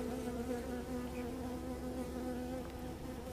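Dense, steady buzzing of many bees swarming close around a beekeeper at an open hive, a continuous droning hum with no voices.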